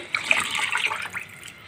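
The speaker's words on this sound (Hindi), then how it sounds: "तो अब मैं इसमें पानी डाल के" Water pours into a pot of simmering chana dal curry, a close splashing, gurgling stream that swells and wavers before tapering off.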